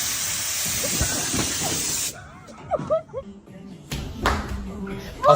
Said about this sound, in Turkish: decided to put an air cannon there?